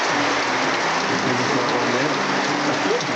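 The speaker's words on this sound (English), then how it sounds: "Yeah, look at the rain." Heavy rain pours steadily onto a leaking shed, a dense, constant hiss of drops hammering the surface at close range.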